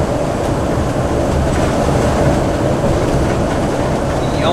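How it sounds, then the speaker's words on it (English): Steady, unbroken road rumble from inside a gas-powered RV cruising at 55 mph on a flat stretch of highway, a constant loud droning noise with no talking for the full few seconds. "hear what the engine sounds like right now at 55 miles an hour on this flat section"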